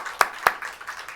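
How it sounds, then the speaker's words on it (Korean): A congregation at a New Year's Eve church worship service claps to greet the new year: two sharp, distinct claps stand out, followed by faint scattered clapping. "하나님께 영광의 박수로 새해를 맞이합니다"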